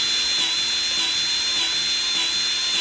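A Milwaukee M12 cordless grease gun runs its motor in one steady, loud, high-pitched whine that holds unbroken throughout, pumping thick grease with no voices.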